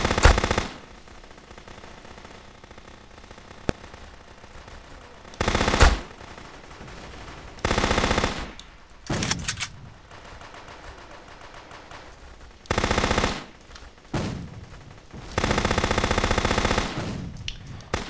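Automatic gunfire in the game Guncraft, repeated rapid bursts of several seconds each separated by quieter gaps, loud and close, no talk.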